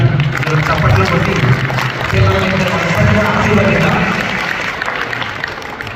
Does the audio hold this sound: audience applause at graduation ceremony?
yes